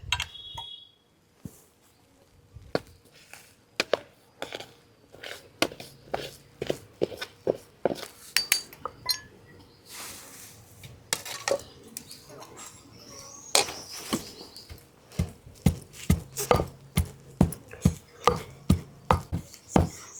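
Tamarind and chili powder being pounded together in a mortar into karam podi, making a steady run of sharp, close thuds, some quick and some slower, with the rhythm speeding up toward the end.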